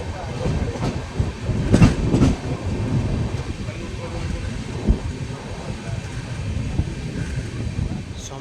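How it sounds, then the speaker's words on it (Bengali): A freight train rumbles past a stopped passenger train on the Howrah–Puri line, a continuous low rolling clatter with wheel clicks and a few sharper knocks, while voices talk faintly nearby. "মালগাড়ি ক্রস করবে সামনে থেকে, তারপর আমাদের ট্রেন দৌড়াবে।"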